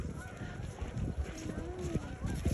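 Birds spooked from a pond call out in loud, honking cries, several overlapping calls rising over soft outdoor background noise.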